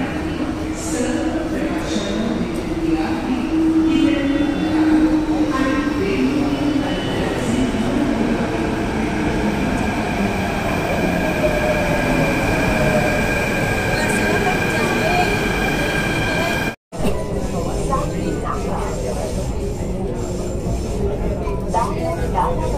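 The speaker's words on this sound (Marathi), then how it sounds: "म्हणजेच मेट्रोने चाललो आहे एक्सप्रेस हायवेच्या" Mumbai Metro Line 7 train riding along the Western Express Highway, a steady interior rumble and rail hum with a sustained whine, brief cut near the end, and occasional voices under the noise.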